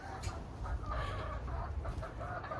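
Chickens in a backyard coop clucking softly in short, scattered bursts at moderate distance over a faint steady background.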